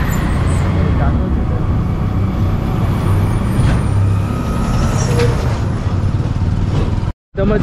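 State transport bus on a ghat road near Gaganbavda, a loud continuous engine and road rumble with an air-brake hiss, with voices talking over it before a brief cut to silence.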